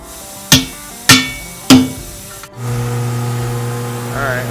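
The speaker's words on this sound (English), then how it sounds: "we're taking the wooden part of the handle on this hammer and hitting the bead down with a bigger hammer to lock it in" Three sharp metal-on-wood hammer blows ring out at even intervals as a bigger hammer strikes the wooden handle of another hammer to seat a tire bead on a 1960 car project, followed by a steady engine-like hum.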